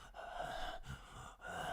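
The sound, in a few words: heavy breathing in a horror movie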